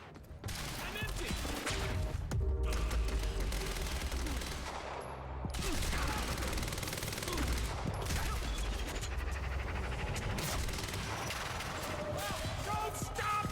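Sustained gunfire fills a Quantum Break shootout, with dense overlapping bursts and rattling automatic fire running throughout, loud and close, with shouted voices scattered under the shots.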